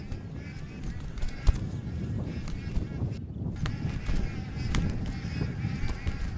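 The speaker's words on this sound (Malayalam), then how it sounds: "തമ്മിൽ തർക്കിച്ച് ബഹളം കൂട്ടി പൊടുന്നിനെ പറന്നു വന്ന കുറേ വാത്തുകൾ പുഴത്തീരത്ത് ഒരു ജാഥ പോലെ നിരന്നു നിന്നു" Geese honk and squabble on a river bank, with repeated calls rising over a steady murmur of flock noise and ambient background.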